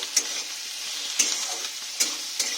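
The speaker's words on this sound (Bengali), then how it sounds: "একটা টমেটো দিয়ে দিলাম করে একটু ভালো করে লাল লাল করে ভেজে নেব" Steady sizzling of tomato frying in a pan, with four sharper scraping stir sounds at regular intervals, close and moderately loud.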